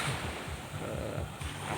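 Surf rolls and washes at Pantai Mapak Indah beach, a soft, steady ocean hiss with low wind rumble buffeting the microphone.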